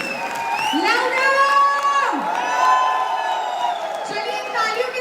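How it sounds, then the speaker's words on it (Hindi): A large audience at a wellness company event cheers and shouts loudly and continuously, with a dense crowd roar, whoops and voices rising and falling across the whole stretch. "तो दोनों हाथ ऊपर करके जोरदार तालियां बजा दीजिए all together"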